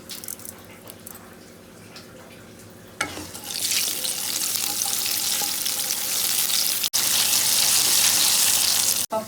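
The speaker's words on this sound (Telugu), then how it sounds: "స్టవ్ పై ప్యాన్ పెట్టుకొని ఆయిల్ వేసుకుందాం. ఫస్ట్ మినపప్పు వేసుకుందాం." Urad dal hits hot oil in a pan and starts frying, a loud, continuous hiss and crackle that rises after a quieter opening of faint kitchen clatter, with two brief cuts in the sizzle.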